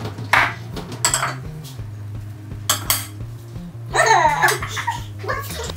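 A whisk works a dry mix of baking soda, corn flour, Epsom salts and citric acid in a bowl, making bursts of scraping and clinking against the bowl with pauses, close and fairly loud, with faint laughter in the background.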